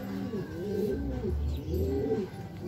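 Racing pigeons cooing at the loft during a race, two or three close, deep rolling coos in a repeating rhythm, alone with no talking.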